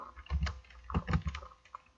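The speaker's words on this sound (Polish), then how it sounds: "Wpisujemy w przeglądarkę nazwę" Someone types on a computer keyboard, entering a program name into a web browser: a short burst of close, uneven key clicks in small clusters with brief pauses, no voices.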